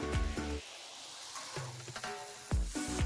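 Mango malpua, a sweet pancake, sizzles in a hot pan with a steady close frying hiss, broken by a few brief clinks and stirring sounds; no one talks.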